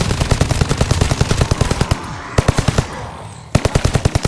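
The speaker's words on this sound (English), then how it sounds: "Because I am killing them with the SMG." Rapid SMG bursts from a Call of Duty game ring out loud and close, several long strings of evenly spaced shots broken by short pauses.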